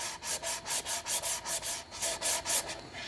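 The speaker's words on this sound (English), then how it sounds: "The router left a little bit of rough, and I can just come back over that with by hand" Edges of a wooden catch-all tray being sanded by hand after routing, a rapid back-and-forth rasping in about a dozen even strokes, close and steady with no voices.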